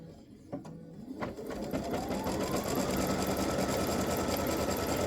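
Sewing machine stitching a Christmas bow directly onto a T-shirt along the side seam, running steadily and loud after a couple of brief starts, its motor hum continuous through the rest.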